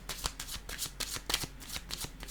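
A deck of cards is shuffled and handled for a card reading, a rapid run of crisp riffling flutters and soft slaps, close and fairly quiet, with no talking.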